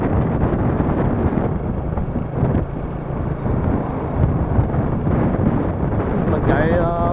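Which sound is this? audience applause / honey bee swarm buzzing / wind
wind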